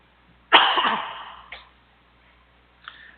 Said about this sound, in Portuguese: Peço desculpa aí pela tosse.